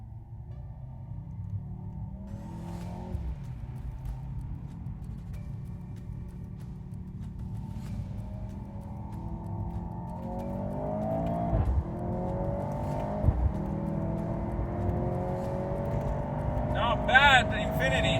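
A Mercedes C43 AMG and an Infiniti Q50 RedSport accelerate hard in a race, engine note climbing steadily through the gears with shifts, heard from inside the car with occasional voices.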